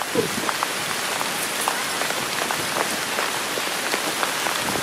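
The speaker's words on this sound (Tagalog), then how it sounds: "Biglang bumaksak ang ulan natin guys." Dense, heavy rain suddenly pours down steadily on a night street-food boulevard in Surigao City, Philippines, a continuous hiss of drops hitting surfaces nearby with no voices.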